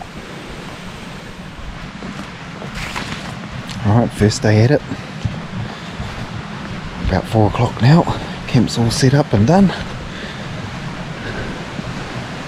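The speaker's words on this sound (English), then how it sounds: "Can't hear too much from camp with the creek noise" A creek flows beside a hunting camp in the Kaweka Range during the sika roar, a constant broadband rush of water running under a man's nearby speech throughout.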